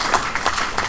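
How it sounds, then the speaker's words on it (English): Applause from a debate audience greeting two university debaters at a demonstration debate, a short, steady wash of clapping at moderate level. "Round of applause for them."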